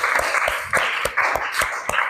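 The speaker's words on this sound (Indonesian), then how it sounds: "Tepuk tangan untuk Melani." Classmates clap for a student in a classroom, a short, loose patter of hand claps with a few sharper individual slaps over a steady murmur.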